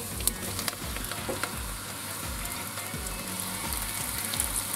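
Potatoes hit a hot pan seasoned with a pinch of red pepper, setting off a steady close sizzle with scattered crackles and light scraping throughout.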